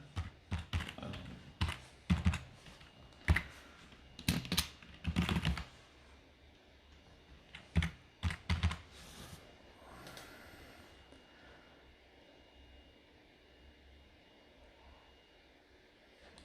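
Computer keyboard typing a username and password, with bursts of close, crisp keystrokes over several seconds, then quiet room tone as it stops.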